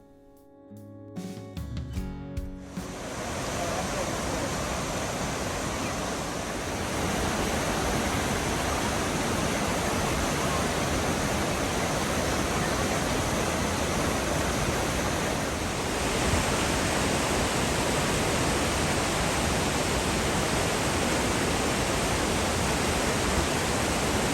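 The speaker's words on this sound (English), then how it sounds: "this is the most impressive waterfall that we saw at Grand Teton National Park" Hidden Falls in Grand Teton National Park roars steadily and loudly after a few seconds of quieter rustling, a dense unbroken rush of falling water with no voices.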